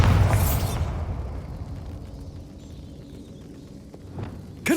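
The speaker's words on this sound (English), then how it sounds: "Bombarda." The Bombarda blasting spell in the video game Hogwarts Legacy bursts loudly right at the start, then fades into a long, low rumbling decay with faint scattered clicks afterward.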